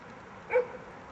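A single short dog bark, faint and somewhat distant, rising briefly above a steady low background hiss in a smoky outdoor area near sheep.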